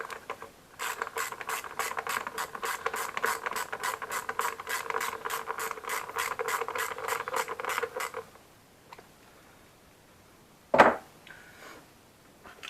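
A ratchet tightens a bolt on the air filter housing of a Mini R56, its rapid, evenly spaced clicks running steadily for several seconds before stopping, followed by a single sharp knock a little later.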